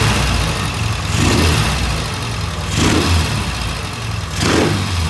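A 1971 Norton motorcycle engine runs steadily close by after a mixture and timing adjustment, with a continuous low throb that swells into three brief revs at regular intervals.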